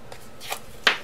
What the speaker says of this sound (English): you can take your bone folder and break the fibers like this